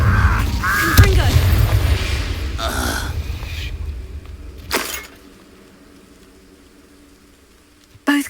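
Confringo blasting spell going off in Hogwarts Legacy, one sharp bang near the start followed by crackling debris and a second short burst later, fairly loud and close before fading to quiet.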